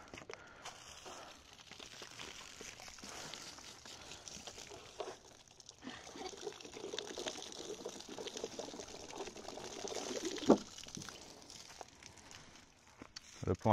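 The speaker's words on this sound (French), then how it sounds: "Il y a de l'eau qui coule." Water trickles and splashes steadily out of a test bottle with a bullet lodged inside it. The flow is quiet and uneven, rising slightly toward the end with a few brief louder spatters.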